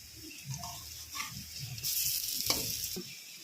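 Lentil cake pieces frying in hot oil in a wok, a faint sizzle swelling into a brighter hissing burst, with soft knocks as they are turned.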